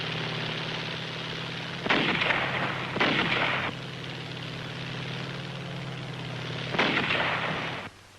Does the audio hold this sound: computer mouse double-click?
no